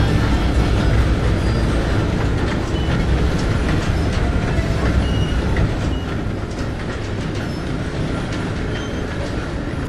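A train rumbles past at close range in the Red Dead Redemption 2 video game, a loud, continuous roar of rolling wheels and rattling cars that holds steady for about ten seconds before easing slightly.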